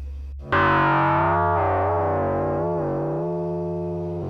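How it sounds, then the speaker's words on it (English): An Arturia MicroFreak synthesizer sustains a single atmospheric FM tone with rich harmonics and a slowly shifting, wavering timbre, rising abruptly and then decaying gently over a few seconds, loud and close with no talking. "That one's got some nice atmospheric sounds."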